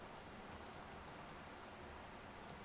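Someone types a short line of code on a computer keyboard, a quick run of faint, light key clicks against a quiet room hiss.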